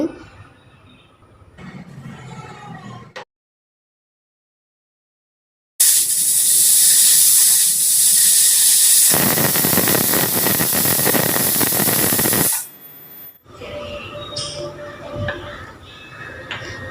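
A loud, hissing rush of steam blasts continuously from a pressure cooker for several seconds, cutting off abruptly, surrounded by quieter kitchen sounds and brief pauses.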